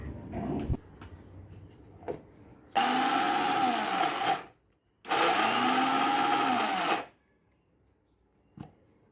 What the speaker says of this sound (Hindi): और अब इसे हम ग्राइंड करेंगे, पीसेंगे।